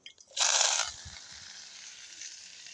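Shallots, curry leaves, dried chillies and fennel seeds hit hot oil with a sudden loud sizzle that settles into a quieter, steady crackle of frying.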